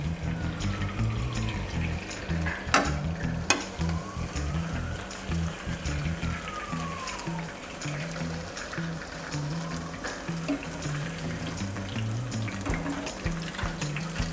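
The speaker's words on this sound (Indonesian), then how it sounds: "kita perlu panaskan minyak dulu sebelum kita goreng" Maggi instant noodles fry in hot oil, giving a steady, close sizzle and crackle throughout, with occasional clinks of a utensil stirring the pan.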